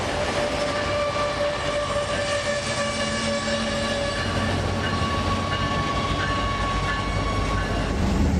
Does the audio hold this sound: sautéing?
no